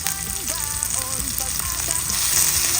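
Garlic, onion and tomato sautéing together in a pan, a steady close sizzle with light stirring scrapes and clinks over a faint background hum.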